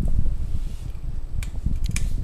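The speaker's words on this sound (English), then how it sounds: "it's an extremely powerful fan." A 42-inch 1991 SMC Park Avenue III ceiling fan spins at high speed, giving a steady low whooshing rumble of moving air with a few faint clicks, close and continuous with no talk.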